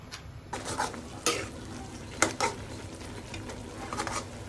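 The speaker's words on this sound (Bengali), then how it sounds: "কচু শাকটা একটু নেড়ে চেড়ে দিচ্ছি।" Taro leaves being stirred in a cooking pot, a few scattered scraping and clinking strokes of a utensil against the pot over a low, steady background hum, quiet and close.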